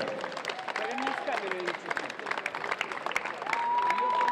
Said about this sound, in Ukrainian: Оплески, оплески.